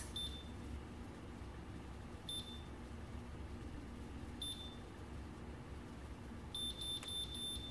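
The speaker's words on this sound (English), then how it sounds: "you just pop the hair into the chamber and close, and it takes it in, and then you'll hear the beeps" A Miracurl hair curler gives faint, high electronic beeps at irregular intervals, ending in a quick cluster, over a low steady hum.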